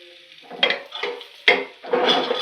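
Chopped ginger sizzling in hot oil over a high flame for chilli chicken, with several bursts of frying hiss and spatter as the pan is stirred, close and fairly loud, no talking.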